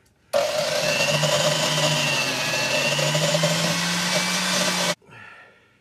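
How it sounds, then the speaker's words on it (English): Valve seats on a Cat 60 cylinder head being ground: a loud, steady high-speed whirring grind running continuously for several seconds, then cutting off abruptly into a brief spin-down. "Now I'll get the seats ground."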